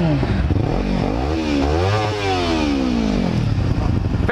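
A Yamaha R6 sport motorcycle fitted with a GYTR exhaust revs loudly and close, its engine pitch sweeping up and down through several quick throttle blips that fill the whole moment.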